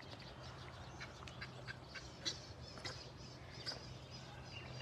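Faint honking and quacking calls of adult and nearly grown young geese drift in at a distance, several scattered calls over a steady outdoor hiss.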